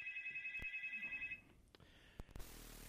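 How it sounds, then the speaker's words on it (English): A telephone rings repeatedly in a steady warbling pattern on a call-in show, loud and close for over a second, then stops and gives way to clatter and handling noise. "We got a phone call? Oh, there's about 9 things ringing."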